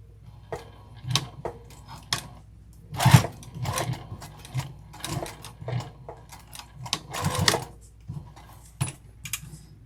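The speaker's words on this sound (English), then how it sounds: "I'm just going to stitch these together right across to hold it in" A sewing machine stitches straight across crossbody bag pieces in short uneven bursts of rapid mechanical clatter, separated by brief pauses and small handling clicks, close and alone without talk.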